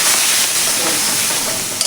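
Loud, dense sizzling and hissing as chopped cabbage hits hot oil, close up and steady for a couple of seconds.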